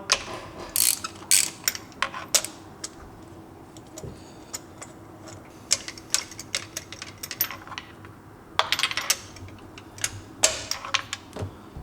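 A ratchet wrench clicks in quick bursts while turning a spark plug on a Yamaha WaveRunner VXR, the close, crisp ratcheting coming in uneven clusters separated by brief pauses.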